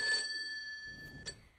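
A telephone rings indoors during a comedy sketch, a sustained electronic tone that fades after a moment and returns with a short burst near the end.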